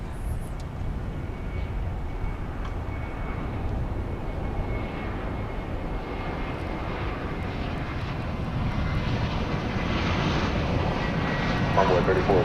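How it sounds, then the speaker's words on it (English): An Airbus A321 jet airliner arriving on a runway at DFW airport at night, a continuous loud engine roar that holds steady and slowly builds toward the end, heard from a distance. "look for the arrival of American 2634 from Sacramento and Airbus A321"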